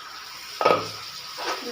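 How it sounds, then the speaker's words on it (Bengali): Water hits a hot pot of meat and potato curry, a sudden loud hiss that swells then fades, followed by a second softer sizzling burst. "এরপরে জল দিয়ে দিলাম"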